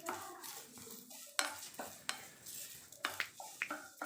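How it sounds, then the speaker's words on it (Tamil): Curry leaves are stirred in a pan while idli podi is made, with a spoon scraping and clinking against the metal over a soft sizzle. The stirring is close and comes in uneven strokes, with no talking. "கருவேப்பிலை பாருங்கள் நல்லா சுருண்டு நல்லா வருது நல்லா ஒரு டூ மினிட்ஸ் நல்லா ஃப்ரை பண்ணிக்கோங்க"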